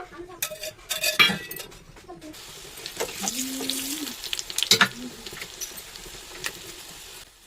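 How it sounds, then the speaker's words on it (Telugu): Tempering spices crackle and sizzle in hot oil in a pan for a dal with vegetables, heard as scattered sharp pops and short bursts of frying with a stirring scrape, all close by and fairly quiet. "ఇక్కడైతే తాలింపు పెట్టేస్తాను"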